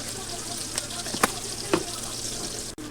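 Onions sizzle steadily in a pan of oil for a fish curry, a continuous frying hiss broken by a few sharp clinks of a spoon stirring.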